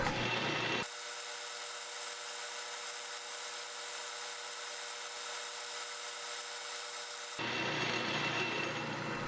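A lathe taking a cutting pass with a carbide tool on a steel tie rod from a John Deere 110, a steady hissing cut heard close and continuous, with the machine's broader running noise before and after.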